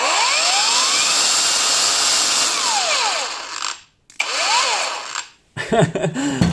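A repaired cordless angle grinder runs loudly with a high, steady whine, then is switched off twice, spinning down each time before starting again.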